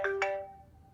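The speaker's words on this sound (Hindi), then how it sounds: "बेटे फोन बज रहा है।" A mobile phone ringtone sounds two quick bright chime notes followed by a ringing tone that slowly fades, clear and close in a quiet room.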